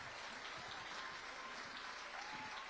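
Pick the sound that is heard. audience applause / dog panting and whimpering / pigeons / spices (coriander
audience applause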